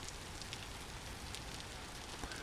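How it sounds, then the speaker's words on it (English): Steady rain falls in the video game Vintage Story, a soft continuous hiss with faint scattered drops, constant and evenly loud throughout with no talking. "It's a crappy rainy day, guys."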